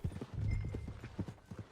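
Horse hooves clip-clop in a loose walking rhythm within Red Dead Redemption 2, fairly close but quiet, with a few heavier thuds and no talk over them.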